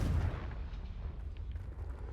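A Confringo blasting spell goes off in the video game Hogwarts Legacy, giving a deep, rumbling explosion that rolls on and slowly fades over about two seconds, with no talking.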